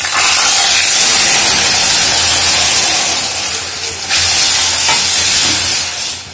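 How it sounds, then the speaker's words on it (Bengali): Cooked lentils poured into hot fried tempering for a sour raw-mango dal, giving a loud, steady hissing sizzle with a sharp burst about two-thirds through, no talking. "ফোড়নের মধ্যে ডাল দেওয়ার পর ডাল ফুটে উঠেছে"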